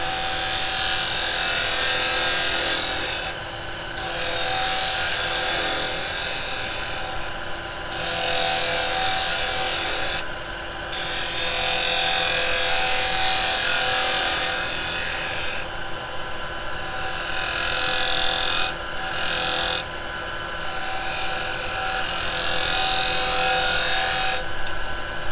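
A carbide tool cuts wood on a lathe while an Easter cross is turned, a continuous loud rasping scrape broken by several short pauses as the cut stops and restarts.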